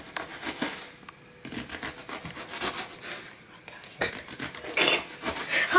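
A knife chops onion finely on a board in quick, irregular bursts of close, crisp cuts and scrapes that pause briefly and then resume.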